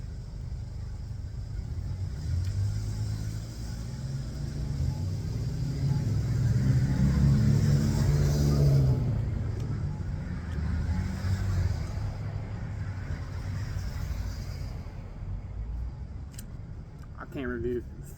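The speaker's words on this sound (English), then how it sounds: "Middle of traffic right here." Street traffic in Richmond, Indiana, with cars rumbling past close by, a steady low roar that swells midway and then eases, heard continuously without talk.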